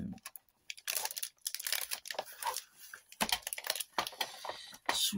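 Double-sided tape for scrapbooking is handled and peeled in a series of crinkly, papery tearing and rustling bursts, close up and fairly quiet, with short pauses between.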